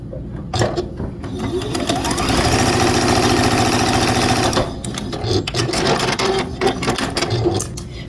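A sewing machine runs steadily as it stitches quilt block pieces together, a loud, fast mechanical whir for several seconds, then briefly stops and restarts in shorter bursts with clicks of handling.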